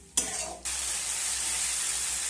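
Spices sizzling loudly in a pan with a splash of water for a pangas fish curry, a sudden burst settling into a steady close hiss.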